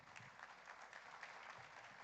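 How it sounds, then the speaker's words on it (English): A faint, distant round of audience applause at an exhibition inauguration, with soft steady clapping heard from far off. "A very big round of applause, everyone."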